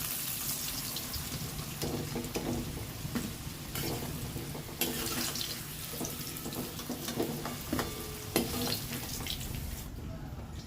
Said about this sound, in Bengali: এবার তেলটাকে ছেঁকে তুলে নেব